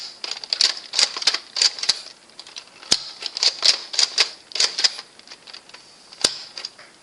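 A vintage Nerf Air-Tech 3000 blaster fires shot after shot, giving sharp clicky mechanical bursts in an uneven rapid rhythm, with a few louder cracks standing out, close and alone.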